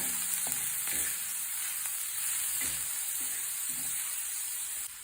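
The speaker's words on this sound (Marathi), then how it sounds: "हे असं खरपूस भाजून घ्यायचं आहे" Dried shrimp roasting in a pan over low flame for a dried-shrimp chutney, a steady close hiss with faint scattered ticks and light scrapes, fading slightly at the end; nobody talks.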